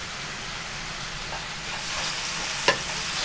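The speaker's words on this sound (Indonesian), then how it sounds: "Minyaknya udah panas, aku mau masukin bawang." Garlic, onion and chili stir-fried in hot oil, giving a steady close sizzle that swells slightly, with one sharp clink of a utensil near the end.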